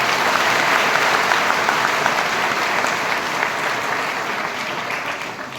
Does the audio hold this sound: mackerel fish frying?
no